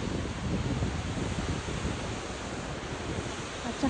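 Steady rushing roar of water from the Double Dragon Waterfalls in Nantou, Taiwan, a dense broadband wash that holds constant and fairly loud across the whole stretch with no voices.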